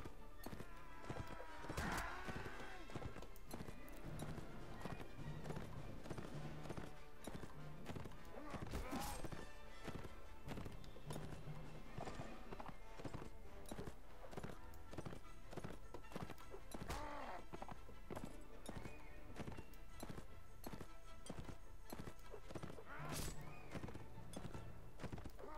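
Horse hooves clip-clop in a steady galloping rhythm during a ride past enemies in Mount and Blade Warband, with occasional whinnies and thuds over a dense, continuous game soundscape.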